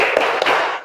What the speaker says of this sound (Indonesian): kita ice breaking dulu dengan tepuk fokus